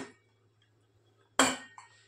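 A cooled pressure cooker lid is opened after cooking dal mundi, giving one sudden loud metallic release with a brief hiss, followed by a smaller clink, in an otherwise quiet kitchen.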